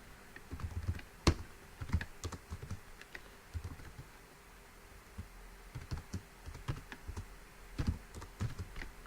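Clicky typing on a computer keyboard, irregular bursts of keystrokes with a short pause in the middle, close and fairly quiet.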